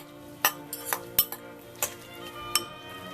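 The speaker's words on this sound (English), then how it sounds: "Just give it a nice mix." Utensils clink against a bowl while mixing Vietnamese chicken salad (goi ga) with pickled vinegar onions, a series of about six sharp metallic taps at irregular intervals, close and fairly quiet, with no talking.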